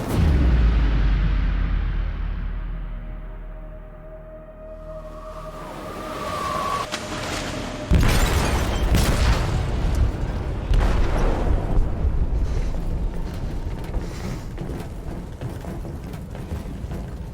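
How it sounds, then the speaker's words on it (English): Explosion in a ship's hold in the video game Detroit: Become Human: a rumbling roar builds, then a heavy blast hits suddenly, followed by sustained loud crashing and debris-like rumble. "They detonated an explosive in the hold."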